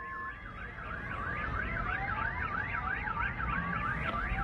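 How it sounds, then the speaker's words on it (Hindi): Wailing air raid sirens over Kharkiv during an attack, a rising-and-falling tone cycling steadily and loud over a dense rumbling background, with a second steadier siren line alongside. "साथ ही सायरन की आवाजें भी सुनाई दे रही हैं"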